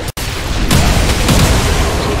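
Loud, booming explosions during a boss fight against the Triturador in the video game Remnant: From the Ashes, with a sharp blast followed by a sustained roaring rumble.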